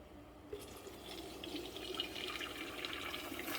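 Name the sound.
pasta water being drained from a pot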